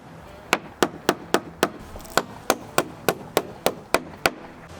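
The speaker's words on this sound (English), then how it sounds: "hammer the trim in place" Wooden trim being hammered into place on a shed: a steady run of about fourteen sharp, close hammer blows at an even, brisk rhythm, each a crisp knock with a short ring.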